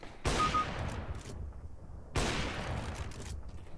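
Two sharp, loud AWP sniper rifle shots in the CS:GO video game, spaced about two seconds apart, each followed by a ringing, decaying tail.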